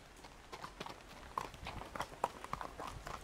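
Horse hooves clip-clopping at a walk during a Western trail riding lesson, with faint irregular hoof strikes close by and no talk over them.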